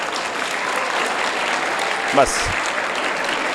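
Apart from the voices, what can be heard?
children clapping for a boy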